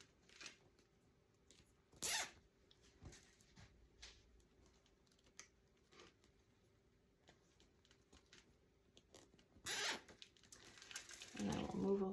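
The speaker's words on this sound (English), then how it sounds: "Put all these zip ties on." Zip ties are pulled tight on a metal pumpkin wreath frame, making two sharp ratcheting zips about eight seconds apart, with faint handling clicks and rustling in a quiet room.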